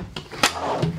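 A big, long storage drawer in a 2019 Newmar Dutch Star 4018 Class A luxury diesel motorhome slides and knocks shut, making a few close, short thuds and a brief rolling slide in a quiet interior.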